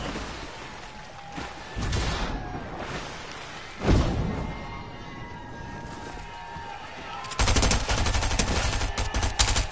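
Video game gun firing in bursts on a PS4 match: short volleys of close, rapid gunfire, with a louder sustained stretch of shots near the end and a sharp blast partway through.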